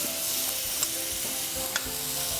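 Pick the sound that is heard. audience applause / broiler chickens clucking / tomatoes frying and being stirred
tomatoes frying and being stirred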